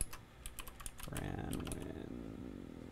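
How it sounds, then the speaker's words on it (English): Rapid clicking of keys on a computer keyboard during a live workshop stream, a quick burst of close keystrokes followed by a steadier low hum. "I'm going to type this in the chat."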